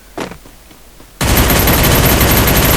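A P90 submachine gun fires in the Free Fire video game as a loud, dense continuous burst. It erupts after a brief quieter moment and keeps hammering to the end.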